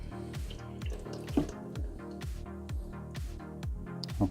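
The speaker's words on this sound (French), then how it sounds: "Je vais verser de l'eau exactement au même endroit que tout à l'heure avant traitement." Water poured onto treated veranda glass runs off in a series of close dripping, splashing pulses with a fairly regular rhythm, quiet and without talk.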